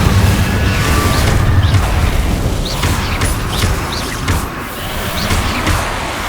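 A Confringo blasting spell in Hogwarts Legacy explodes with a heavy booming blast, followed by dense rumbling debris, scattered pops and clanks over a continuous loud roar.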